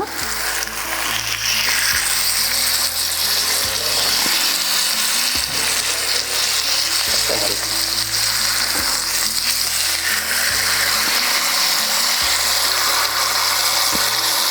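Noodles frying in oil in a pan on a home stove, a steady loud sizzle running throughout with occasional stirring and scraping clatter, no voices.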